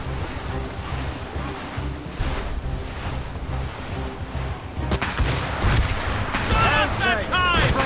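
Ship cannons fire in a naval battle in Assassin's Creed Rogue, several booming volleys building over sea and wind noise, with shouted crew voices and orders mixed in toward the end.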